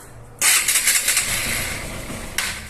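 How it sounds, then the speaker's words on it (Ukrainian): A Honda XR 150L motorcycle under repair catches after a brief starter crank, firing into a loud, uneven engine burst that settles into a rough idle close by, with a small revving blip near the end. "Він жвавенько крутить, але заводиться в момент, коли кнопку пускаєш."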